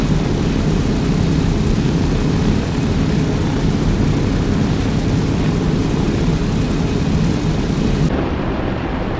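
Aircraft engine roaring steadily in the Arma 3 combat game as it takes off down a runway, a loud, dense broadband drone holding for about eight seconds before cutting off abruptly.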